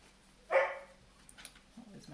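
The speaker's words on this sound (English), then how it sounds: "That was my dog" A female pet dog wanting to be let out gives one short, fairly distant bark in a quiet kitchen where bread dough is being shaped, followed by faint background noise.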